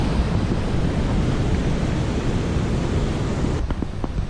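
Waterfall on the Ganaraska trail, water rushing through the chutes at Victoria Falls: a loud, steady, broadband roar that fills the whole clip, with a few faint knocks near the end.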